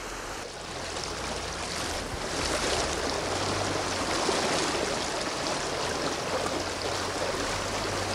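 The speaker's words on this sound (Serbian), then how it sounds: "Voda još uvek nadolazi iz korita reke Lugomir i nadolaziće u selo Končarevo i Rakitovo sve dok se ne povuče u korito." Floodwater of the Lugomir river rushing steadily near the villages of Končarevo and Rakitovo, a loud continuous broadband roar that stays unbroken throughout with no voices.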